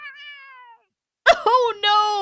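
A cat lets out a sudden surprised screech as a tree branch splits beneath her and she starts to fall, a sharp high cry after a brief tonal sound and a silent gap, then a longer wavering yowl close by.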